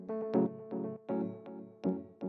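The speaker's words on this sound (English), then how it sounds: "The next thing that we have here is this little Rhodesy E-piano kind of sound," A soft Rhodes-style electric piano in a house track plays a series of mellow chord stabs with short percussive attacks in a loose rhythm, quiet and close.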